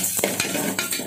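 Spices crackle and sizzle briskly in hot oil in a pan for tomato pickle, a dense, close hiss broken by a few sharp pops and scrapes of stirring.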